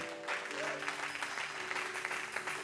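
A church congregation applauds steadily, a dense wash of clapping that holds for the whole stretch, with a voice faintly present beneath it.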